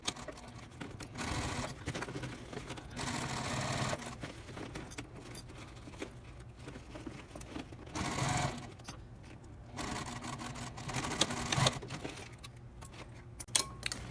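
A sewing machine stitches across a tote bag seam with lining, running in steady bursts with brief pauses. There is no talk.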